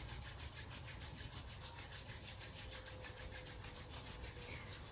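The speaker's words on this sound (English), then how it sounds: "rubbing hands together" Hands rub briskly together in a continuous rhythmic swishing during a calm yoga session, close and fairly quiet, with no talking.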